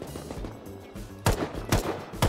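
Gunfire in the survival video game Rust, rounds striking an enemy in a headshot and body shots: three sharp, loud bursts spaced evenly over a low game rumble, standing alone without talk.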